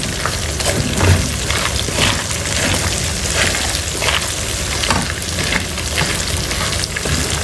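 Peanuts and garlic fry in a pan with a dense, steady crackling sizzle, loud and close, with faint stirring scrapes running through it.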